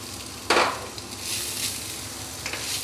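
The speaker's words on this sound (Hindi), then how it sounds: "ये मैंने हल्का सा ऑयल लिया और एवोकाडो फ्रूट जो था उसको मैंने मैश किया। अब इसको फ्राई कर लेते हैं" Mashed avocado frying lightly in a little oil, a steady soft sizzle with a sharp scrape of a spoon near the start and a couple of fainter stirs later, no talking.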